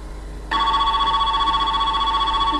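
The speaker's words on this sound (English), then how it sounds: "makes a phone call." A telephone rings at a research center, starting abruptly after a brief hush with a loud steady electronic warble held close and clear, no talking.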